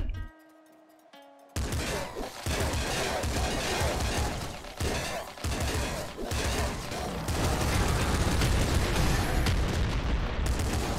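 Rapid automatic gunfire from the auto shot weapon in the Nuclear Throne video game, a loud dense barrage of electronic shots and explosions that starts after a brief quiet tone and continues almost nonstop.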